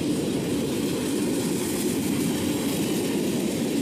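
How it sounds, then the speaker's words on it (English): A long freight train rolls past in a steady, continuous rumble of wheels and cars on the rails, dense low-end roar with hiss on top, loud and unbroken throughout with no voices. "That's a long train."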